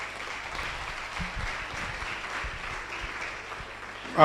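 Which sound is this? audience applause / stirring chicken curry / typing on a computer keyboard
audience applause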